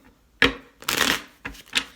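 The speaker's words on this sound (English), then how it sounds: "Let me shuffle." Tarot cards being shuffled by hand in several quick riffles and flutters of paper, close and crisp, with short pauses between them.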